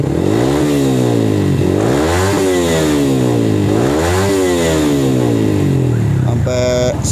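A Yamaha MX King motorcycle fitted with a racing exhaust revs hard to about 11,000 RPM, loud and close, its engine pitch sweeping up and down in repeated rising and falling surges before a short clattering burst at the end.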